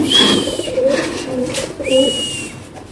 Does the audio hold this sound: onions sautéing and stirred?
no